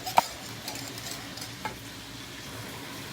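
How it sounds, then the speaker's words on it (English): Sauce thickened with cornstarch being stirred in a pot, a faint, soft bubbling sizzle with a sharp utensil tap at the start and a lighter knock midway, quiet and without talk. "We're gonna pour that cornstarch right on in there, and we're gonna give this a stir."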